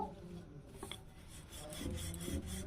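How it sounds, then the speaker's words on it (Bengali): Rice flour pitha dough for rose-shaped pitha being rolled out with a rolling pin, giving a soft continuous rubbing and scraping that builds slightly toward the end, close and alone without speech. "এবার এটা আমি বেলে নেব, যেভাবে রুটি বেলে সেইভাবে একটু আমি বড় করে এইভাবে বেলে নেব"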